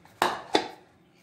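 Two sharp clinks of glass and metal sound close together as mango pickle goes into a bottle and the lid is closed tightly, followed by a quiet tail.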